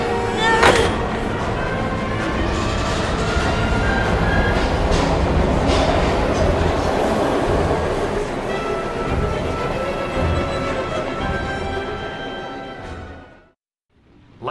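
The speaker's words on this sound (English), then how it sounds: "We've gotta get on that train, Ethan!" A train from the PC version of the video game Heavy Rain rumbles and rattles continuously, loud and close, with clattering carriage noise that fades out abruptly near the end.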